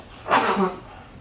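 A single sneeze bursts out during a staff meeting, one short loud explosive puff lasting under half a second against quiet room tone.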